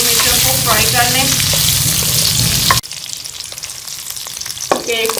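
Green chillies frying in oil make a loud, close, continuous sizzle, which drops suddenly to a quieter crackle partway through, with a few clinks of stirring and no talking.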